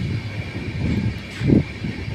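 Inside a train heading toward Sealdah near Dum Dum, the carriage gives off a steady low rumble and rattle, with a brief louder clunk partway through and no voices.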